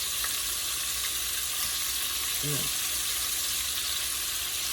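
Chicken tenders deep frying in hot peanut oil for Louisiana spicy fried chicken, a steady dense crackling sizzle that fills the whole clip at close range, with a brief soft clink partway through.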